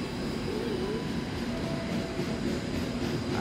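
A container freight train rumbles along track 4 at one of Jakarta's busiest railway stations, a loud, close, continuous roll of wagons and wheels with a faint metallic whine running through it.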